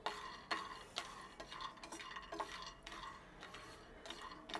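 Whole almonds dry roasting over a low flame in a pan while being stirred, with a repeated scraping rustle and light clinks of utensil against metal. The strokes come close and fairly faint, about every half second, with no speech.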